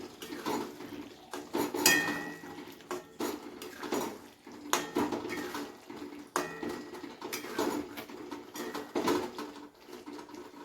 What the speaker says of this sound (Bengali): গরম মশলাটাকে একটু ভালো করে মিশিয়ে নিই